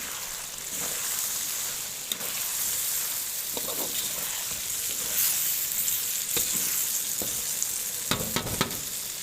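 Chicken sizzling and frying in a karahi with turmeric and red chili powder, with steady crackling spatter punctuated by occasional stirring scrapes, close and fairly loud with no talking.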